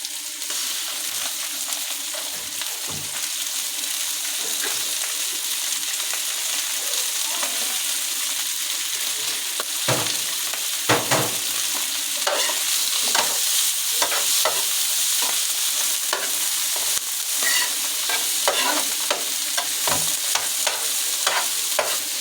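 Sausage frying in a pan gives a loud, continuous sizzle up close, broken by frequent scraping stirs throughout.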